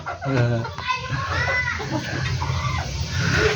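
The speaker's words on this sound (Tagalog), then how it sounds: "May ingay na ibang manok natin doon sa taas." Chickens cluck and call in a busy farmyard, mixed with overlapping voices and background chatter at moderate loudness.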